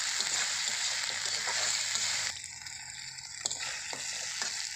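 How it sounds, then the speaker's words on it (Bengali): Potatoes frying in a pan with ginger paste for a bottle gourd dish, a steady close sizzle that dips and turns sparser halfway through with small stirring clicks. "তো আলুগুলোকে আমি একটুখান ভেজে নেব আগে আর দিয়ে দিলাম আদা বাটা"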